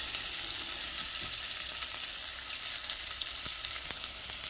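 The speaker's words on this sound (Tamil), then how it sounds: "நல்லா வெங்காயம் நல்லா வணங்கி வருது பாருங்கள்" Onions sauté in hot oil for drumstick sambar, giving a steady close sizzle and crackle with a few faint stirring taps.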